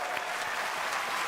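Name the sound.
audience applause at Google I/O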